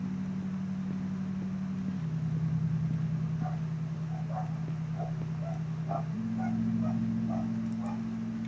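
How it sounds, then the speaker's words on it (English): Dogs indoors whimper and yip in short high bursts, a string of faint whines and small barks at mid distance over a steady low engine-like hum. "that's my dogs."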